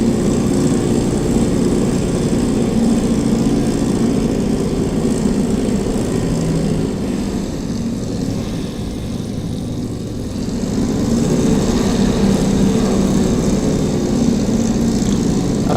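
A Spitfire's piston engine taxiing in the DCS flight simulator, a loud, steady propeller drone with a brief dip in the middle before it rises again, with no talk.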